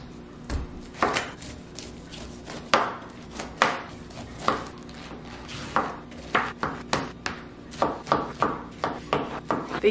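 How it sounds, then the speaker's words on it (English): A knife chops pineapple and coleslaw vegetables on a cutting board, giving sharp close knocks that start sparse and irregular, then speed into a steady rapid rhythm. "So I'm gonna start chopping"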